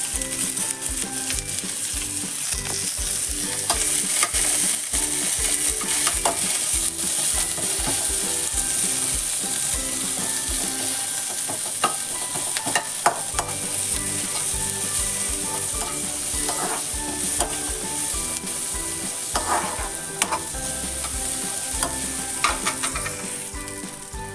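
Onion and garlic sizzle in a pan as they are stirred, with constant frying crackle and frequent scraping and clinking of a spoon against the metal, close and without any talk.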